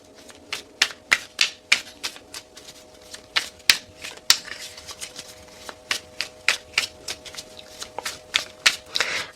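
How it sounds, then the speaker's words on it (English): Tarot cards shuffled at a reading table, a steady run of crisp riffling slaps and flicks repeating every fraction of a second, close and fairly loud with no talking. "I know everybody hates the shuffling."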